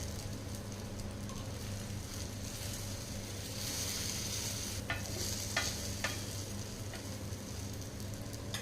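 A masala egg omelette sizzles steadily in a pan with a close, continuous frying hiss, broken by a few light scraping clicks of a utensil.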